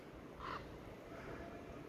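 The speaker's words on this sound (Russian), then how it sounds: "Вороны кружат." A crow over a snowy field gives one short caw, heard faintly at a distance against a windy rustling background.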